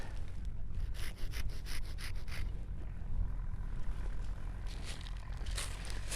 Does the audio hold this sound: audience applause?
no